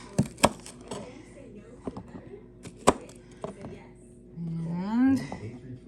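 A Pioneer Woman kitchen knife cuts the tops off homegrown paprika peppers, producing a few sharp close chops spread through the clip, with a person talking between them.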